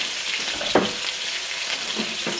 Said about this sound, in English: we are going to just cook this down for about 6 to 8 minutes in that coconut oil on medium-high heat